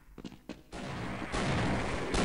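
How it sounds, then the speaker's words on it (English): Wooden crates blowing apart in the Half-Life video game, a few sharp pops followed by a sustained, loud burst of crashing debris. "We can hear exploding woody things"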